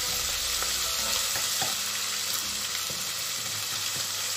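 Ginger and garlic sizzling in hot oil in a pan with boiled liver, a steady loud frying hiss that runs the whole way, with a few light clicks of stirring.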